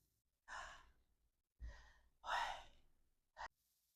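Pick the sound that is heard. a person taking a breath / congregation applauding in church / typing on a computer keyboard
a person taking a breath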